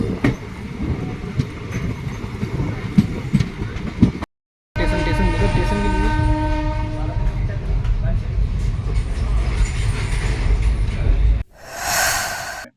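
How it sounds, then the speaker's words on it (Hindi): The AIT Konch shuttle passenger train in Bundelkhand rolls slowly at around 30, giving a steady close rumble with clickety-clack and faint wheel squeal, brief drops in sound, and voices talking over it. "ट्रेन की स्पीड जो है बहुत ही हल्की और 30 मिनिमम होगी इसकी स्पीड।"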